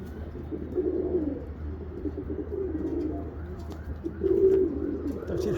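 Roller pigeons coo in low, throaty, rolling calls that repeat close by, steady and moderately loud, with one brief stronger coo near the end.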